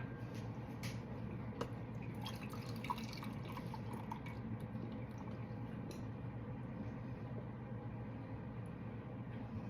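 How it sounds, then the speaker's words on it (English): Buttermilk pours and drips into a container in soft, irregular splashes, quiet and close, with a low background hum. "I'm gonna pour that into my container."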